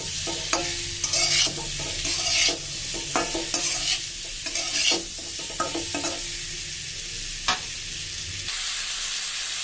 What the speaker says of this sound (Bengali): পরিমাণ মতো হলুদ, দিয়ে আমি ভালো করে নেড়ে দেব।